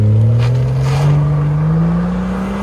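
A 2017 BMW 740i with a 3.0L turbo inline-six and muffler delete drones loudly up close, its exhaust tone rising steadily as the engine climbs in revs with a rough, throaty edge.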